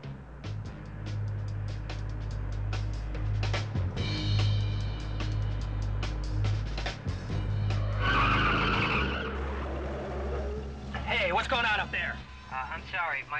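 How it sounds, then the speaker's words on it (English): Car brakes locking up with tires skidding and squealing in a harsh, rising screech, over a low engine rumble and a steady background score, with talk breaking in near the end. "My brakes are locking once in a while"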